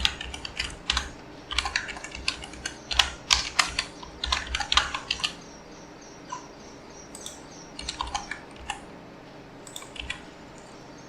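Someone types code on a computer keyboard nearby, rapid bursts of key clicks broken by short pauses, with a low steady hum underneath.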